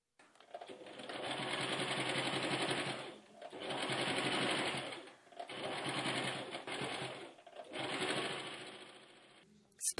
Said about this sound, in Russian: Стук швейной машинки